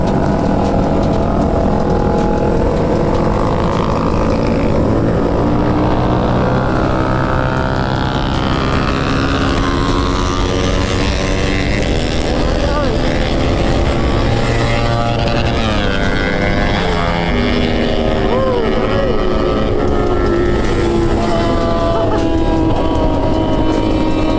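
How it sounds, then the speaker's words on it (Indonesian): Several loud motorcycle engines, including a CBR, rev and whine at high pitch at night, rising and falling in overlapping passes, continuous throughout with no pause. "Ada Aeros kencang sama CBR trondol guys, punya si Sul ya."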